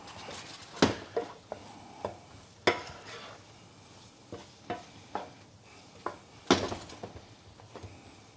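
Venison and mushrooms frying together in a buttered pan give a soft, steady sizzle, broken by sharp clinks and scrapes as a utensil stirs and taps the pan every second or so.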